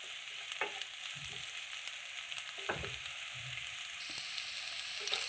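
Onions fry in a pan, cooking toward golden for a mutton blood fry, giving a steady broadband sizzle throughout with a few soft stirring scrapes and clatters, the hiss brightening near the end.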